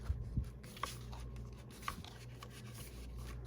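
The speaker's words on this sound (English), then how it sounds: "Let's do our last flap. All right, let's fold it up." A paper flap of a handmade craft album is folded and creased by hand, with soft quiet rubbing and faint scraping touches, close and intimate, no talking.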